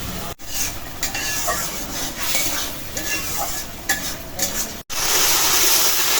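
Spice paste stirs and fries in hot oil for a small chicken and turnip curry, a loud continuous sizzle with repeated scraping strokes of a spoon against the pan.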